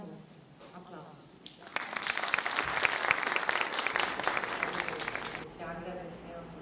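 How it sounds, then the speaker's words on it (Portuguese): Audience applause at a film festival opening, a few seconds of steady clapping from a room of listeners, moderately distant and fairly quiet, with faint talk before and after. "Aplausos."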